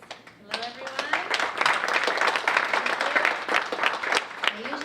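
Audience applause fills a performance hall, many hands clapping steadily for several seconds while someone speaks over it.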